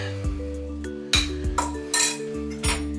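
A spoon scoops crock pot mac and cheese out of the pot, with several sharp clinks and scrapes against the cookware over a steady tonal background.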